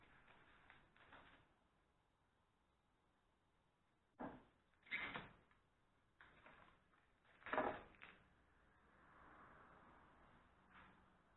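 Drawers in an abandoned company office are pulled open and pushed shut, giving several loud wooden scrapes and knocks in clusters between quiet stretches, heard close and alone.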